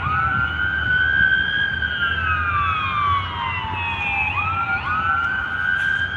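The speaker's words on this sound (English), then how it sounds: "And there's lots and lots and lots and lots of sirens all the time." Wailing emergency vehicle sirens rise and fall continuously, several tones overlapping and sliding in pitch, loud and steady over low traffic rumble throughout.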